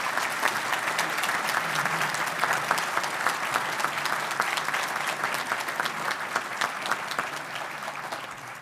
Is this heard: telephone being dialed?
no